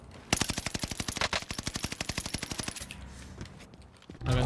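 Rapid machine gun fire in Call of Duty Warzone, a steady burst of evenly spaced shots lasting over two seconds before trailing into quieter game noise.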